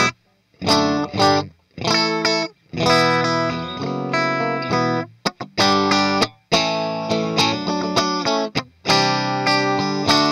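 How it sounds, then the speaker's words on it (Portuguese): An electric guitar plays through a Fender Twin Reverb '65 amp model on a Cuvave Cube Baby, with loud, fairly uncompressed chord strums in short phrases separated by brief gaps. "O próximo amplificador é um Fender Twin"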